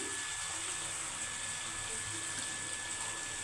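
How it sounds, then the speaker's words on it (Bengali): Water is poured into a pan of prawn malaikari curry, a continuous hissing, gushing pour close by, held at an even loudness with no break, and no voices over it. "একটু জল দিয়ে দিই"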